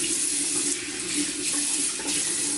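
A tap runs water over a badger-hair shaving brush beside a stainless steel bowl, a loud, steady rushing stream with slight surges in intensity, continuous and close, with no speech.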